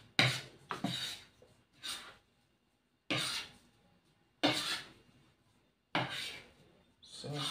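A knife scrapes across homemade bread dough in short, raspy strokes, about six separate passes with quiet pauses between them, close and fairly loud.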